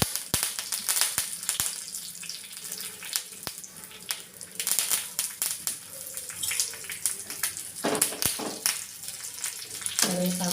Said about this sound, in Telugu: కరివేపాకు కూడా నూనెలో బాగా వేగాలి.